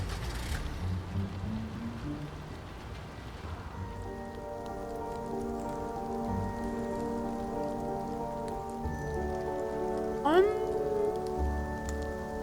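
Steady rain falling on surfaces in the Nancy Drew: Midnight in Salem video game, a constant patter beneath soft tonal background music.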